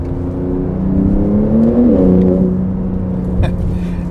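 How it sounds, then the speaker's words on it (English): A 2023 Porsche 911 Turbo S Cabriolet engine drones steadily and loudly from inside the car, the pitch sweeping briefly as revs change, with a short crackling pop near the end. "And you get some really aggressive burbles"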